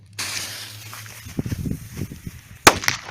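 A sharp, loud crack of a small piccolo-type firecracker bursts near the end, heard from about 3 metres, following a few seconds of fizzing and rustling, then fades with faint crackle.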